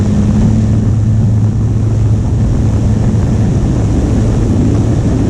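Small RC Sopwith Camel model plane engine throttling up, a loud steady droning hum with a low propeller tone that holds close and continuous throughout, no voices.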